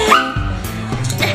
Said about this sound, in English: Oh my god, we're at a puppy cafe.